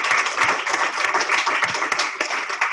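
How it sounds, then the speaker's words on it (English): An audience at a linguistics career panel applauds the panelists, a dense steady clatter of many hands clapping close and loud throughout, with no break. "So let's give them a round of applause."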